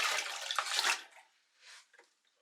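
Slushy, partly frozen pool water poured from a container into a toilet during a winter power outage: a close, rushing splash for about a second that quickly thins to a few gurgles and drips, with no talking.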